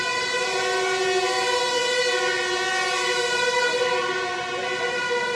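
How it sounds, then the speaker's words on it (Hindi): A fire brigade vehicle's siren wails steadily and loudly, holding a sustained rising-and-falling tone throughout with no speech over it. "फायर ब्रिगेड की गाड़ी जा रही है और वो ऐसे ही शोर करती जाती है।"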